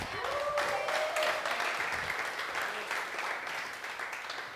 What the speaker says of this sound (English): I want to give a round of applause to Matthias, my media buyer of 4 years